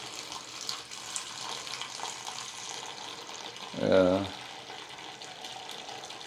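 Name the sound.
boiling water being poured down a clogged drain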